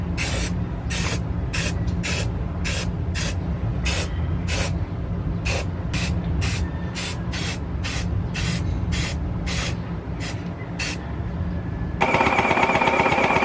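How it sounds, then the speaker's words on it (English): Short bursts of primer sprayed onto a large plastic Zaku II model kit, about twenty quick hissing puffs in an irregular rhythm over a steady low hum, ending with a longer continuous spray. "we're going to spray it up with primer grade"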